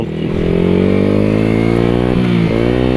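A Yamaha Exciter 155 VVA motorcycle, sharing the R15 engine and running 17-inch wheels, revs hard up close, a loud, steady mid-pitched engine note rising slightly over three seconds.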